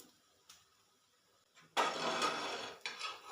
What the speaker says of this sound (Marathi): आता याच्यावर आपण झाकण ठेवूया